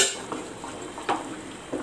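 A spoon scrapes and knocks inside a lidded pot of medicinal rice kanji, producing a few soft clinks over a low simmering hiss, close and fairly quiet.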